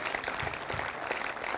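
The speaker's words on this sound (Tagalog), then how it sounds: "Mahinang palakpak po yan." Light, scattered applause from a church congregation during a service, a soft steady patter of clapping hands heard at a distance and fairly quiet throughout.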